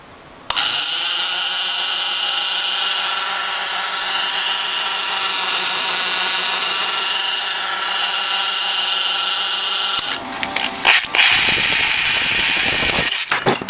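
A homemade Van de Graaff generator runs on a DC power supply, a loud, steady motor whine that starts suddenly and holds for about ten seconds, then breaks into uneven rattling and clicks.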